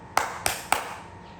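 Three sharp hand claps in a home during an unboxing, evenly spaced and fairly close, each with a brief ringing tail.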